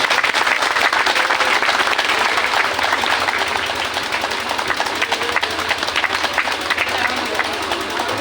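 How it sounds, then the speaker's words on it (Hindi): Sustained applause from a devotional gathering's audience, a dense steady wash of many hands clapping throughout at fairly loud level, without pause. "ये तालियां बजाते हैं।"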